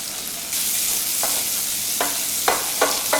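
Pancetta fries in a pan with a loud, continuous sizzle, punctuated by several short scraping stirs toward the end.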